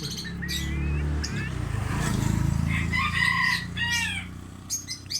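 Golden bantam chickens cluck and squawk nearby, with a rooster-like crowing call, while someone talks over the birds.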